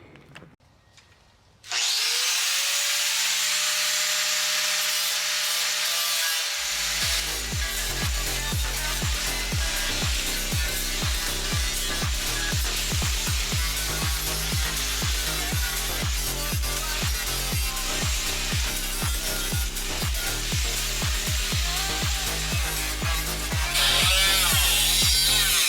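Grinder working over the prepped metal surfaces of a Mazda Miata front end during a rebuild, starting after a short quiet lead-in and then running loud and steady with dense rattling, scraping bursts close to the mic.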